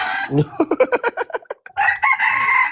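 A rooster crows loudly up close, followed by a rapid run of chicken clucks, then another long crow rings out.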